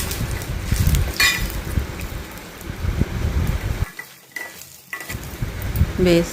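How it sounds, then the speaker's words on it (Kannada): Peanuts fry in a little oil in a pan, a steady close sizzle with stirring scrapes and a few clinks of a utensil against the pan, briefly quieter in the middle. "ಆಮೇಲೆ ಶೇಂಗಾನು ಸ್ವಲ್ಪ ಎಣ್ಣೆ ಹಾಕಿ ಹುರ್ಕೋಬೇಕು"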